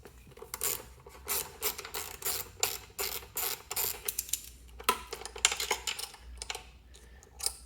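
Hex bolts being loosened and removed on a Triumph Thruxton R motorcycle: a close, steady run of small metallic clicks and ratcheting ticks, with a brief pause near the middle before the clicking resumes.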